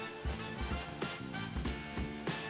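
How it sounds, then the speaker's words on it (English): Broccoli, carrots and zucchini stir-frying in oil make a close, bright sizzle with repeated crackling bursts as the pan is worked, and no voices. "You're gonna do stir fry, you gotta have the oil on it"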